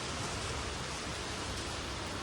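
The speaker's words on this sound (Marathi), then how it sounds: "पाऊस बघा कसा डेंजर लागलाय" Heavy rain falls as a dense, constant, loud broadband hiss with no breaks, steady from start to finish and no voices present.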